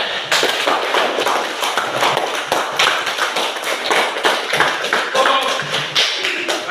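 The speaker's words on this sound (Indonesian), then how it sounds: "Kita berikan tepuk tangan dulu." Students in a classroom clap together, a dense, lively run of sharp hand claps that stays steady and loud from start to end, with a few voices mixed underneath.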